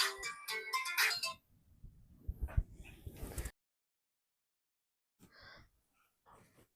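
A mobile phone ringtone plays loud and close for about a second, and then a person breathes and murmurs faintly. Quiet gaps and brief soft sounds follow.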